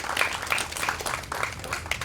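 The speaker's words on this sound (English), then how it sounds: "让我们热烈掌声欢迎各位嘉宾。" Audience at the launch ceremony of the ASEAN Research Centre clapping to welcome guests, a fairly quiet, scattered patter of hands that comes in uneven bursts.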